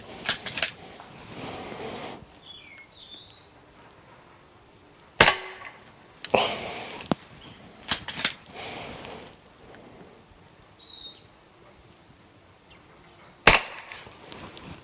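Stoeger XM1 air rifle firing pellets at a metal target ten metres away outdoors: three sharp, separate cracks spaced several seconds apart, each with a short metallic ring, and faint birdsong between.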